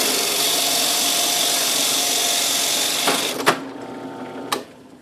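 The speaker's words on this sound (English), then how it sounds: "And now we put the piece of wood back in and turn the drill press on." A drill press whirs steadily as it bores into a piece of wood, with a continuous loud hum that cuts off into quieter handling and a couple of sharp clicks.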